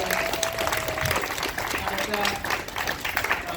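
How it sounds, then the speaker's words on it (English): Applause from the audience at a county Teacher of the Year ceremony, a continuous clapping texture that stays moderately loud throughout with faint crowd murmur. "Let's all give Cherrie a round of applause"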